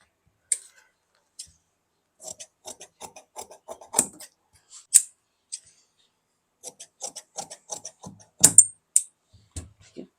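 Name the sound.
scissors cutting blouse lining fabric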